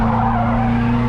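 Race car engine heard from inside the cockpit during the Freedom 500, a steady loud droning note with a strong low hum, held throttle with tire scrub and no talking.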